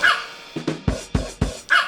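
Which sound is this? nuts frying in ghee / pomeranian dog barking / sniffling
pomeranian dog barking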